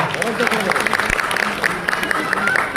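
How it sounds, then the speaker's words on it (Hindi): Audience at a community gathering in India claps in a dense, steady burst of applause, with some voices mixed in underneath. "इस शारिक के लिए भी आप जोरदार ताली बजाओ"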